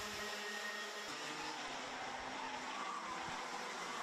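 A small RC race car revving hard in a junior club race, its high-pitched motor whine rising and holding steady over roughly four seconds against general track background noise.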